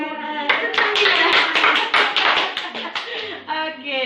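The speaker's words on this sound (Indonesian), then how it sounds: "Iya, dia tepuk tangan dia." A child claps their hands in short bursts of several sharp claps with brief pauses between them, heard close, while adults talk over the clapping.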